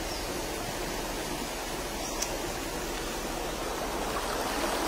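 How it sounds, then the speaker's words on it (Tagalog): Steady rushing of the Arayaw river's running water, constant and fairly loud throughout with no voices. "Running water talaga"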